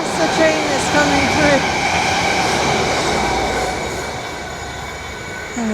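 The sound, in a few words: fast train passing through station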